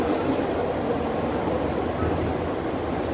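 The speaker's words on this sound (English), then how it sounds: "This is a metro station." A metro train in an Italian metro station fills the space with a loud, steady rumble and hiss that holds constant throughout. No talking.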